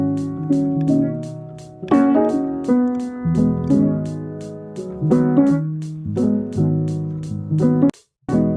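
Chill boom bap beat built in FL Studio: straight chopped samples with kick and snare hits under steady hi-hats, looping for several bars and dropping to a brief silence near the end, loud and close.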